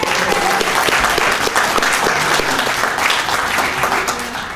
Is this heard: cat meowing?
no